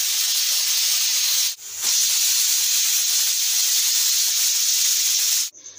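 A pressure cooker vents steam in a loud, sustained hissing whistle while cooking stuffed bitter gourd, breaking off briefly once and then resuming before cutting out.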